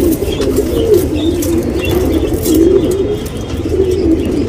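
Tournament pigeons in a Bangalore loft give soft, repeated throaty coos that are close and fairly loud over a continuous background murmur.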